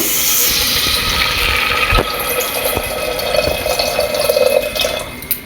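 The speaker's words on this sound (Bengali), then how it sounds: "এবার এতে আমি জল দিয়ে দেবো" Water is poured into chicken marinated with lemon juice, pepper and salt for a stew, a continuous close rushing and splashing flow that stays loud throughout.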